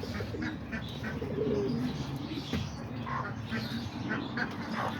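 Pigeons coo softly and repeatedly in a backyard pigeon loft on a rainy day, low burbling calls overlapping against steady background noise, with a few brief chirps.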